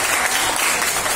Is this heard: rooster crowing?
no